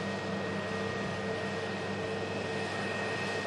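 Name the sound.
Ryanair Airbus A321neo airliner taxiing after landing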